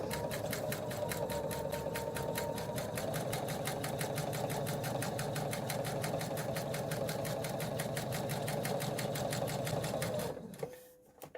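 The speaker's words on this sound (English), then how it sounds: "So now I'm going to sew directly on the line, as close as I can, directly on the line between A1 and A2." A sewing machine stitches steadily along a line while foundation paper piecing a quilt block, its rapid, even needle rhythm running loud and continuous for about ten seconds before stopping abruptly.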